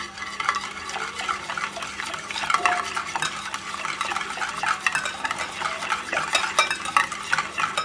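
A spoon works melted butter into eggless cupcake batter in a bowl, with close, continuous scraping and clinking against the bowl at a busy, uneven rhythm and no talking.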